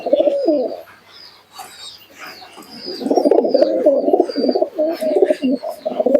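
A Giribaz pigeon coos close by in repeated throaty, rolling bursts, with a quieter stretch in the middle, a few lighter chirps and faint background sounds from other birds.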